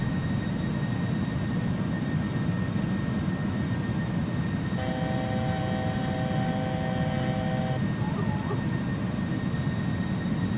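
An Airbus A300F freighter's engines idle in X-Plane 11 as a steady, droning turbine rumble with faint whining tones, and a brief electronic tone sounds partway through.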